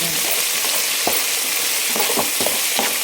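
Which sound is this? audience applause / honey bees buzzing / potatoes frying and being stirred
potatoes frying and being stirred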